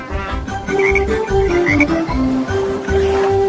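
A green speckled frog croaks repeatedly, loud and close, through the whole stretch, with steady tonal notes running underneath.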